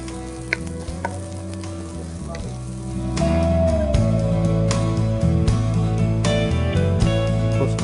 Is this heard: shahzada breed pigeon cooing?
no